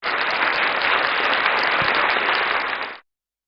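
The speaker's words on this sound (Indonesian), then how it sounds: "kasih tepuk tangan dong." A congregation bursts into loud, sustained applause during a church service, a dense even roar of clapping that cuts off abruptly near the end.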